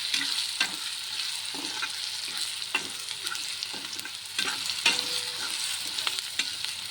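Chapati chivda, made from leftover flatbreads with chili powder and turmeric, frying in a pan while a spoon stirs it: a steady close sizzle, broken by repeated scraping strokes, with no voices.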